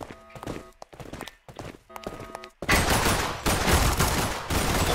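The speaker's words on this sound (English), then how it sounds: "What am I shooting at?" Gunfire in a Roblox zombie shooter game: sparse separate shots at first, then dense, loud, continuous firing fills the second half, close and alone with no talk.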